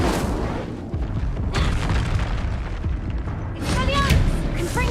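Fiery spell blast from the Hogwarts Legacy wizarding video game, a dense roaring burst with crackling bursts and a swelling whoosh near the end, mixed under spoken spell incantations.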